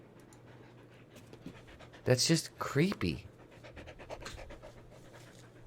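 A dog named Mara panting heavily close by, a quick run of rough breaths in the middle, with someone talking quietly around them.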